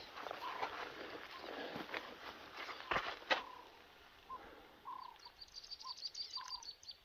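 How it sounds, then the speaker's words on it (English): Birds chirp and tweet outdoors in the Biedouw Valley, scattered calls near and far over a quiet background, with a couple of sharp knocks partway through. "Just the sound of the birds."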